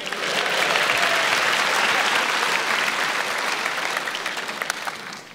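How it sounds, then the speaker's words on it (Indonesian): A stand-up comedy audience claps and cheers at a live Indonesian show, a broad steady roar of applause that swells early and then gradually thins toward the end. "ayo tepuk tangan"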